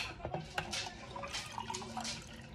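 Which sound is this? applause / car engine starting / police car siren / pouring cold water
pouring cold water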